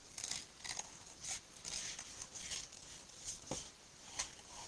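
Small scissors fussy-cut a paper word for a handmade card in a series of quiet, crisp snips with short pauses between them, heard close up with no talking.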